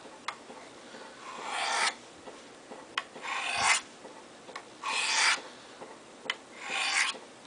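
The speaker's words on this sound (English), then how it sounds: "you place the blade completely flat" A knife blade is stroked down and pulled across the stones of a Spyderco SharpMaker, giving four steady raspy strokes spaced about a second and a half apart, each with a light tap at its start, close and clear without talk.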